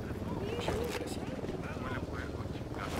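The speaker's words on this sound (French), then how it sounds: "Hélico de l'Unidad en approche." Helicopter approaching in the video game Ghost Recon Wildlands, a steady broad rotor and engine roar that holds loud throughout, with game voices and talk layered over it.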